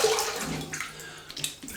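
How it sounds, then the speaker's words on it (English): Tap water runs steadily as a shaving brush is rinsed under it, a close, continuous splashing and gurgling stream lasting under two seconds. "quick rinse."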